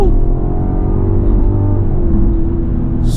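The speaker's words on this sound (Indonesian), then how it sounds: "suara atau raungan mesin yang sangat merdu" A 3300 cc inline-six car engine producing 284 HP revs loudly and close, a dense, steady roar with a rising tone that holds throughout with no talking.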